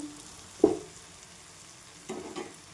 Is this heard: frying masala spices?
yes